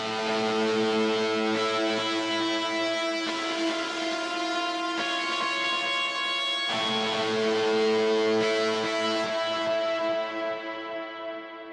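Ambient guitar-style atmosphere for thall music, a sustained harmonic wash with a CLA delay set to quarter notes stacked over other delays, giving a gentle pulsing repeat; dense and continuous, with a small swell near the end before it thins out.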